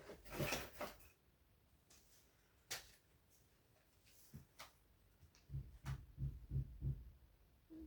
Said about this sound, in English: trying to stop me speaking by banging the ceiling, like kicking it with their feet